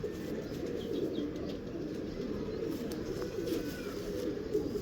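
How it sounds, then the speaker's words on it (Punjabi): Ferozpuri pigeons cooing softly and steadily at close range, with a constant low background hum and faint chirps. "ਇਹ ਫਿਰੋਜ਼ਪੁਰੀ ਉਹ ਕਬੂਤਰ ਆ ਜੀ"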